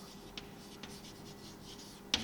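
Faint, close strokes of writing on a board during a physics lesson on mirrors, a few soft scratchy sweeps over a low room hum, ending in a sharper tap.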